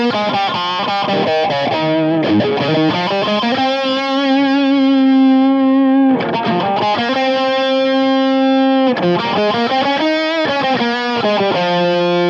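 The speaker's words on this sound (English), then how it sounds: "a high gain lead sound maybe. So I'm going to the OD section and maybe add some chorus and delay and reverb" A high-gain electric guitar through a Blackstar ID Core Stereo 40 head plays a melodic lead with long sustained notes and quick runs, wet with shimmering chorus, delay and reverb.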